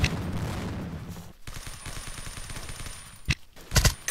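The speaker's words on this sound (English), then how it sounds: "They're starting to shoot stuff up here." Gunfire in the blocky shooter game Blockade 3D comes as rapid rattling bursts and single sharp shots, moderately loud with short gaps between volleys.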